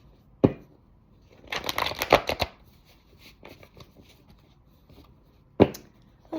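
Tarot cards are shuffled close by in a quick riffling burst, framed by single sharp taps of the deck and a few softer card sounds.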